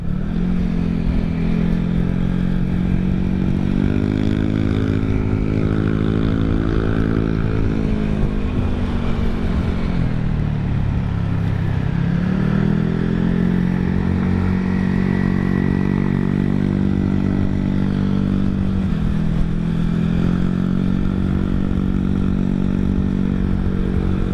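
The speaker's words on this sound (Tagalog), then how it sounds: "Yan, so mayroong 4 na motor dito sa harap natin." Several motorcycles riding together on a year-end group ride, engines droning loud and close with rising and falling revs throughout, no talk.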